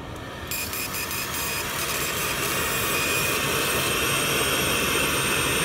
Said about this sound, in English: and we are starting the cutting now